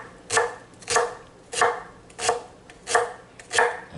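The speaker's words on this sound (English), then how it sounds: "get a nice fine chop on this. I love a lot of onions, so I'm going to town with the onions here." A knife chops onions finely on a board, six evenly spaced, crisp thuds about two-thirds of a second apart, close and alone with no talking.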